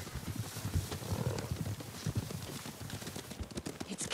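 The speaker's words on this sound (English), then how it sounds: "Horses, they're coming for us." Horses approach through tall grass in Ghost of Tsushima, their hooves clip-clopping in a fast, irregular patter at moderate volume while low voices and rustling sit beneath.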